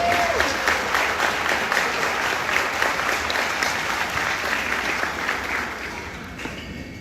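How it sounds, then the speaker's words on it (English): Audience applause at a chamber of commerce breakfast, a steady dense clapping from a room of people that runs throughout, fading slightly toward the end. "Give them a round of applause."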